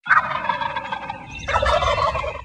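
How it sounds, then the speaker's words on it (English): A male wild turkey gobbles loudly and close by while strutting, two rapid rattling gobble bursts back to back with no voices present. "Strutting and gobbling"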